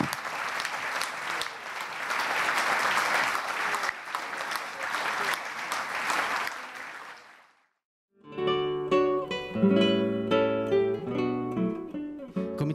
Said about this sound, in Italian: Io accoglierei con un grandissimo applauso Annabel Montesinos.